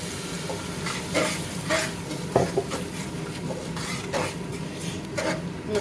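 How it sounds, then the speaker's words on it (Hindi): Garam masala with coriander, stirred and roasted in a pan for a Pakistani chana rice, gives a soft sizzle under repeated scraping strokes of a spoon, close and moderately quiet. "मसाले को अच्छी तरह भूनेंगे"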